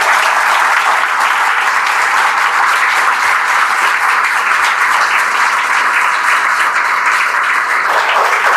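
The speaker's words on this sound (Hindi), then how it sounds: "एक बार जोरदार तालियों स्वागत कर दें" Loud, continuous applause from a large audience welcoming speakers at a celebration of new IIT students, a thick wall of clapping that stays even throughout.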